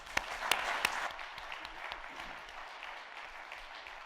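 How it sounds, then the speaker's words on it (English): Conference audience applause for Susan Taylor, a burst of loud individual claps at first settling into steady, moderately distant clapping from the room. "Please give a huge round of applause to"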